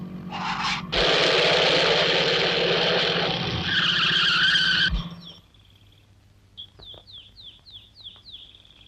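A car turning around with its engine running, its tires letting out a loud, sustained screech for several seconds before the noise drops away and birds chirp faintly in the quiet afterward.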